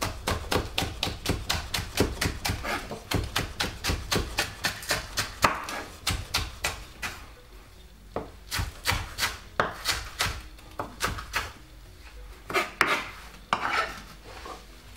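Spring onion being chopped on a board, a close run of rapid, evenly spaced knife taps that pause briefly and then resume in quicker bursts.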